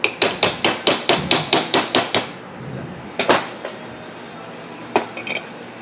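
A hammer taps a metal part into place in a chainsaw muffler on a Husqvarna 254XP, first a quick run of about ten evenly spaced sharp metallic strikes, then a few scattered single taps after a pause.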